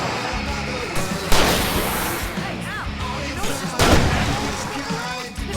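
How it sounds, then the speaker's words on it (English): Fireworks burst in Alan Wake Remastered, two loud booming explosions with crackling tails during a fight, set against game music and a man calling out. "I can set off more of the fireworks from here and help you out!"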